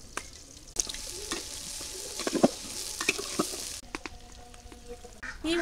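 Chopped onion, garlic and green chili fry in hot oil for okra fry, giving a continuous crackling sizzle with scattered stirring scrapes and pops, close and fairly quiet.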